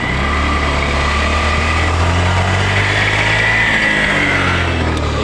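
A repaired Honda Dio BS6 scooter idles close by, its small engine giving a steady, even hum with a faint high whine above it and no roughness, running on its own without talk.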